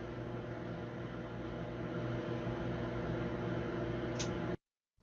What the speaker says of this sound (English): you can't run a microwave with nothing in it